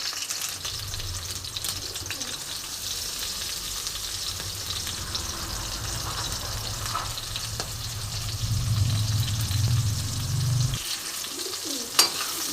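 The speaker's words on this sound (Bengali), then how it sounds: "তেলটা গরম হয়ে গেছে বন্ধুরা আমি উচ্ছে আলুটা একসাথে ভেজে নেব" Bitter gourd and potato pieces sizzle steadily in hot oil in a home kitchen, a close, continuous frying hiss with occasional stirring scrapes and a sharp clink near the end.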